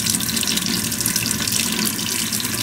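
A Zagonel Prima Touch electric faucet runs a continuous, steady stream of water into a sink. The hiss is loud, close and even, with no voices over it.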